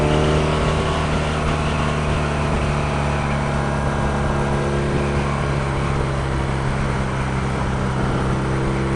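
Steady, loud engine drone from a 2016 BMW R nineT motorcycle on a test ride, a continuous rumble with strong low harmonics and wind-like hiss, holding an even level throughout with no voices.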